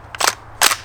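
Two sharp, short cracks in quick succession from a Springfield Hellion rifle chambered in 5.56, firing green tip rounds, each a brief bright burst.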